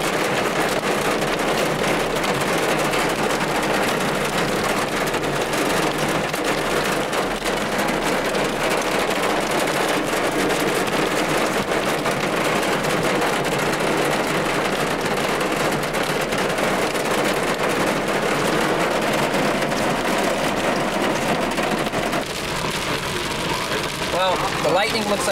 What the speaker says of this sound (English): it is raining incredibly hard, and it's actually hailing right now.